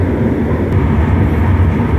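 An LRT Line 1 extension train runs between Dr. Santos and Fernando Poe Jr. stations as a steady, loud, low rumble with continuous rail roar. It stays even throughout, and no one speaks.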